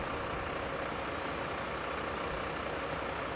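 A fire truck engine rumbles and revs steadily in a firefighting simulation game, a dense, constant drone that holds loud throughout with no breaks.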